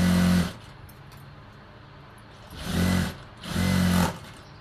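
A sewing machine stitches along both sides of a blouse in three short runs, a loud close whirring hum that starts, stops, then runs twice more with quieter gaps between.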